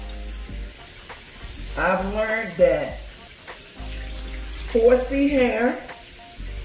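Tap water runs steadily while hair is saturated on wash day, with someone talking over the continuous hiss of the stream.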